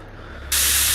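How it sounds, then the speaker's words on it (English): A med spray in the VR co-op game Surv1v3 bursts on halfway through, a sudden loud, steady hiss that continues to the end over a low electronic hum. "I need a whiff of the med spray."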